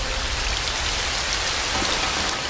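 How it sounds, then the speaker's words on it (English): Steady rain falls in a film scene, a dense, even hiss of drops striking surfaces that is loud and close and continues without a break. "It's still raining."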